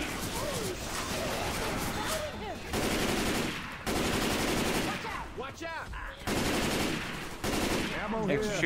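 Sustained automatic gunfire from the zombie shooter Left 4 Dead, dense bursts broken by brief gaps, with people talking and occasional other game sounds mixed in.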